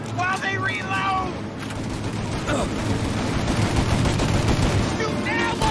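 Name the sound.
gunfire in a shootout, from the video game Mafia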